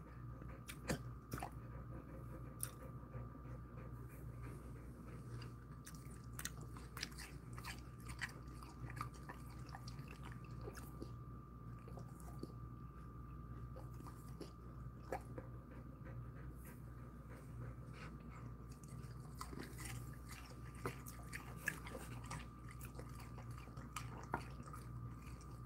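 A Jindo dog chews and crunches snack pieces after a walk, steady biting and munching with occasional panting, close and continuous over a low background hum, no talking.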